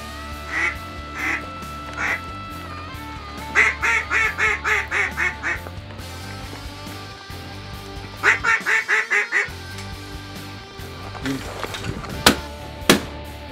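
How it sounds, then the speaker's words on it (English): Ducks quack in repeated rapid bursts close to a hunting blind, with scattered clicks and faint voices around them and quieter stretches between the calling. "there were ducks flying all around us and dropping in on us before we could even get our guns loaded"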